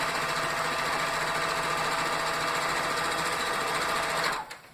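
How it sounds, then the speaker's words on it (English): Sewing machine stitching rag quilt squares, a fast, loud, steady close-up whir that runs for several seconds and then stops abruptly. "I'm just sewing down the line that I drew."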